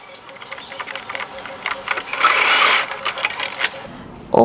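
A sewing machine runs in a short burst while stitching a 1.5 cm seam allowance, its quick mechanical whir rising mid-clip amid faint clicks and handling noise.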